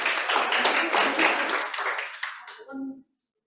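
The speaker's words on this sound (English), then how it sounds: "Can we give David a round of applause, ladies and gentlemen?" Audience applause for David at a training session, a burst of clapping with voices mixed in that tapers off and stops near the three-second mark.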